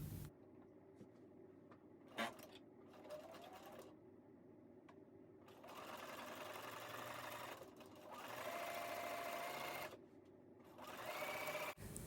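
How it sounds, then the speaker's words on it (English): A domestic sewing machine stitching 2.5-inch fabric strips paired with white at a quarter-inch seam, in short whirring runs and then longer steady bursts with brief pauses, close and fairly quiet. "I'm pairing them up with white, and I'm doing a 1/4-inch seam allowance, and I'm doing what's called assembly line sewing"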